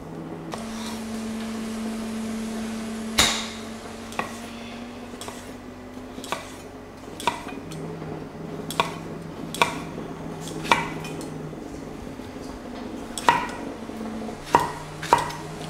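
Knife chopping tomatoes into random chunks on a cutting board for pork sinigang, a series of sharp, irregular knocks over a steady low hum, spaced every second or so and growing more frequent.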